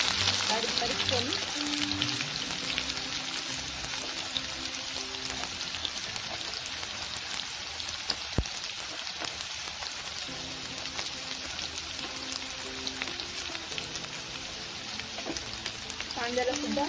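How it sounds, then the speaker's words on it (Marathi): Chopped onion frying in a pan for egg rice, a steady dense crackling sizzle like light rain that runs unbroken throughout, with a faint tone in the background. "कांद्याला सुद्धा चांगल्यापणाने परतून घ्यायचंय, जोपर्यंत कांद्याचा कलर चेंज होत नाही तोपर्यंत आपल्याला कांदा फ्राय करून घ्यायचा आहे."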